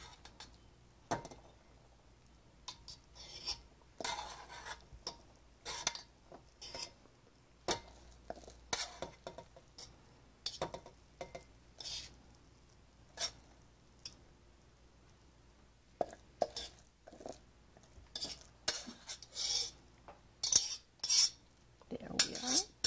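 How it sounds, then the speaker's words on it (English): A fork fluffing food in a dish, with sparse light scraping and clicking of metal against the dish in irregular bursts, quiet and close, with quiet pauses between strokes. "And just fluff it up with the fork."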